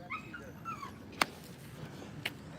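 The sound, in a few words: rescued dog whimpering and barking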